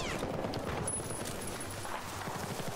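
Gunfire in the Battlefield 4 video game, a rapid rattle of automatic shots in dense bursts over a busy game soundscape, fairly faint and continuous.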